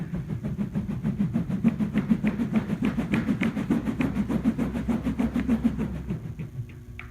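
Inertia Wave tubes slide back and forth along a smooth, flat tabletop, making a close, steady rhythm of whooshing, wind-like pulses that carry on evenly before fading near the end.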